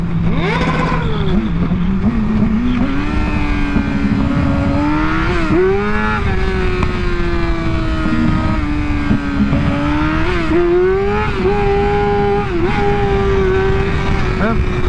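A 2023 Kawasaki ZX6R engine revs repeatedly during a wheelie attempt, pitch rising and falling in loud, close surges over wind noise, with a sticking clutch noted.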